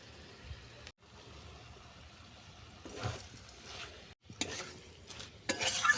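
Grated coconut and sugar being stirred into a cooking pot, a quiet scraping and soft shuffling with a faint background hiss, a few brief louder clatters near the end.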